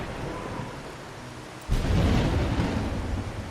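Steady rain hisses in Wuthering Waves, then a sudden loud thunderclap breaks out and rolls on as a deep rumble over the continuing downpour.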